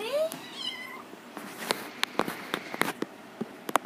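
A cat meows near and clearly at the start, followed by scattered sharp taps and clicks from a room at home.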